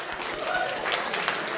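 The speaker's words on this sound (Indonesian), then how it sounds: "Tepuk tangan dulu semuanya," A group claps together in applause at the close of a guided exercise session, a dense, steady patter of many hands held evenly for a brief moment with a hint of voices behind it.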